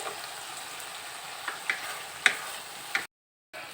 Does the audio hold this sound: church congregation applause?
no